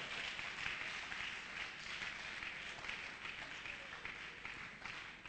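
A church congregation applauds in steady, dense clapping that stays fairly even throughout and sounds faint and distant.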